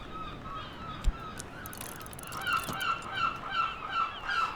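Gull-like honking calls from the video game Book of Hours repeat in a loose rhythm over a steady ambient bed, moderately loud and close, with no speech.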